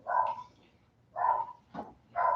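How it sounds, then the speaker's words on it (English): A dog barks several times in separate bursts, a steady repeated barking at moderate distance with short pauses between barks. "I hear my dog barking."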